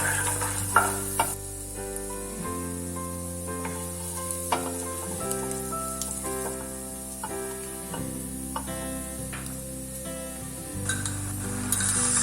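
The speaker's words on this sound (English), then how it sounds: "Now let's add finely chopped garlic and saute it until the raw smell goes off." Finely chopped garlic sautéing in a pan, a soft sizzle with occasional stirring clinks, under steady background music and fairly quiet throughout.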